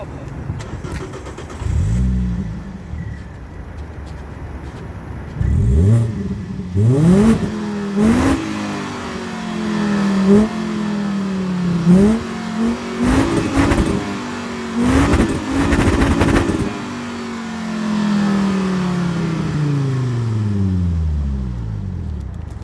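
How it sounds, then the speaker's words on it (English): A Volvo V50 recorded up close at the exhaust pipe: the engine starts, then gets several sharp revs that rise and fall, some in quick succession, before settling back to a steady idle. "So I'm going to give it some revs for you guys."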